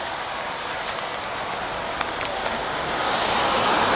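Cars pass through Rotherham town centre in a constant wash of road noise. A few faint clicks sit on top, and the rumble swells slightly louder toward the end as a vehicle approaches.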